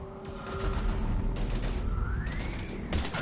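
Heavy gunfire crackles in a Mass Effect 3 battle, dense rapid bursts of shots layered over rumbling booms and a rising whine, loud and continuous for a few seconds.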